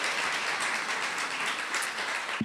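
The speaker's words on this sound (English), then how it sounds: "Let's give them a round of applause." A conference audience claps in a steady wash of applause that carries on for a couple of seconds, moderately loud and filling the room.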